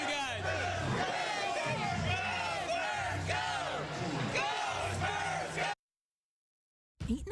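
San Antonio Spurs fans at an NBA Draft party at the AT&T Center shout and whoop together in loud, rising waves of crowd yelling that last several seconds, then cut off abruptly.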